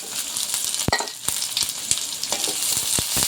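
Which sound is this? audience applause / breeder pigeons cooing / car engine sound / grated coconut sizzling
grated coconut sizzling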